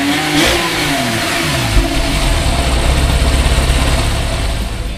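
A 2009 Porsche 911 Carrera S coupe engine revs loudly and close up, rising and settling into a steady, rumbling run for about five seconds with no talking.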